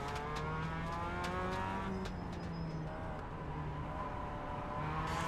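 Race cars in iRacing drone steadily with engine whine that shifts pitch as they lap, a continuous faint mechanical hum with some high ticking, and no voices.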